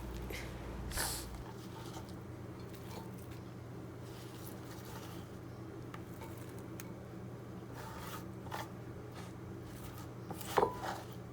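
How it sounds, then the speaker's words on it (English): Knife chopping vegetables for a small salad served with jollof spaghetti, faint scattered cuts over a low steady background hum, with one louder knock near the end. "let's cut a small vegetables salad that we eat with our spaghetti"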